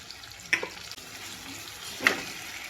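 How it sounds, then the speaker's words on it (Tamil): Curry leaves, onion and garlic frying in hot oil with mustard seeds, sounding as a soft steady sizzle close by, with two brief louder spits and crackles as ingredients hit the pan, and no talking. "இப்போ கருவேப்பிலை, வெங்காயம், பூண்டு வந்து க்ளீன் பண்ணி வச்சுருக்கேன்."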